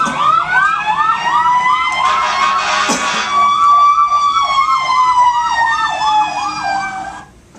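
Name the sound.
emergency vehicle sirens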